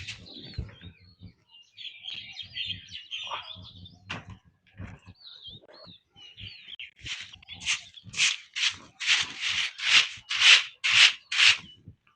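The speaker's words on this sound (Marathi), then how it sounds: "बाहेरचं म्हणजे दारातलं लोटून काढून" A broom sweeping the doorstep outside a house on a morning, starting with sparse scraping and bird chirps, then a run of about ten brisk, regular swishing strokes, close by.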